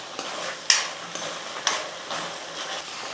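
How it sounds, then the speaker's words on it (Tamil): Onion and ground tomato paste sautéed in a pan, with soft sizzling and intermittent scraping stirs, a few sharper utensil strokes standing out at a moderate, close level. "பச்சை வாசனை போகிற அளவுக்கு நல்லா வதக்கிக்கலாம்"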